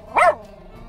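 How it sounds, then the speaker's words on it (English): A single short bark from a dog inside a truck cab, close and fairly loud, followed by quiet cab ambience. "What are you barking at, buddy?"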